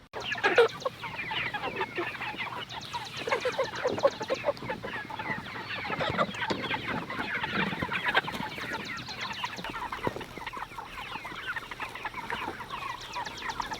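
Many farm chickens cluck and chatter together in a continuous, busy murmur, close by and moderately loud, with no voices.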